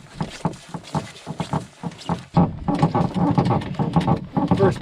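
Canoe paddling on a calm lake with only a faint breeze, a solo trip: repeated rhythmic strokes and water swishes, steady and close, growing fuller and busier partway through.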